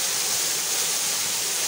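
A high waterfall with heavy, fast-rushing water pours in a steady, dense roar at a remote jungle stream, loud and continuous with no talking.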